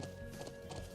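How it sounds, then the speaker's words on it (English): Horse hooves clip-clop steadily in a video game, a faint rhythmic run of hoofbeats over a continuous tonal background hum. "Hey, horses!"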